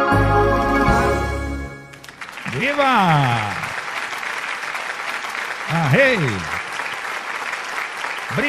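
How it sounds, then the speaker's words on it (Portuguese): Audience applause at a live musical show, heard from backstage as a continuous wash of clapping under a man's speech, following the tail of a sung phrase. "Tem alguém aqui nos bastidores aplaudindo barbaridade."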